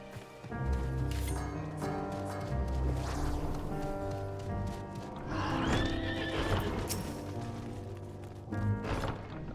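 A horse in the Final Fantasy XIV game neighs several times over steady clip-clopping hooves and cart rumble, with faint background music running throughout.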